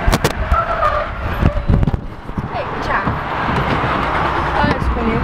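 A car drifting with its tires skidding: loud engine revving and a rising tire squeal with rushing wind, while excited voices talk over it.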